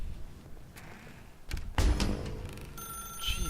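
A telephone rings in The Stanley Parable, a clear electronic ring that sounds near and fairly loud over a dim room tone, with no one talking.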